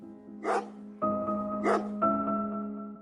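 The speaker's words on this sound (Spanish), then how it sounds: "el sonido de los ladridos de los perros se acercaba cada vez más" Several dogs barking, with sharp broadband bursts around one and two-thirds of the way through, over a sustained tonal hum, moderately loud and close.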